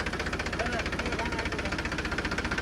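A tractor engine runs steadily at idle with a rhythmic, knocking mechanical pulse, close and loud throughout, with a voice partly over it.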